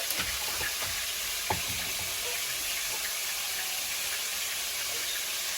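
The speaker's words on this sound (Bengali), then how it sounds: "কড়াইতে তেল দিচ্ছি আগে আলুটা ভেজে নেবো" Potatoes frying in oil in a wok, seasoned with turmeric and salt, give a steady close sizzle with a few small clinks and stirring touches, no voices.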